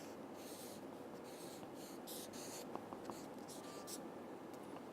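Pen strokes scratching out Gothic letters, a soft continuous scraping and rubbing on paper with a few faint ticks, close and quiet against a steady background hiss.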